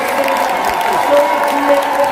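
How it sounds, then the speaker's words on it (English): Audience applause fills a large convention hall at a global anniversary convention, a steady dense wash of clapping with some crowd noise and faint tonal music underneath. "let's all give a round of applause"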